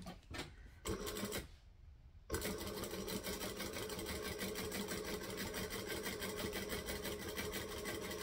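A sewing machine stitches piping through several fabric layers and foam at a moderate, even pace, its rapid mechanical whirr running steadily after a couple of short starts and stops.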